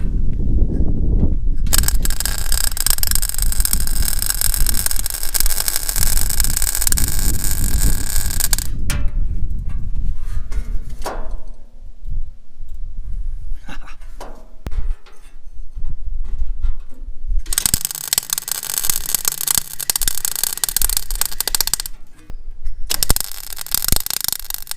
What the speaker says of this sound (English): Let's try and weld it all up now.